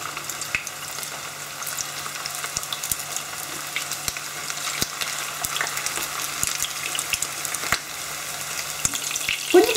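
Eggs wrapped in minced meat frying in well-heated oil, a dense continuous sizzle with crackles and small pops, close and steady throughout, no talking.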